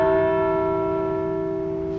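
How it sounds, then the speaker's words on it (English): A single large church tower bell struck once, its deep steady ring with clear overtones sustaining and slowly decaying, loud and close, alone without voices. "Each bell has a different pitch because of the size of the bell."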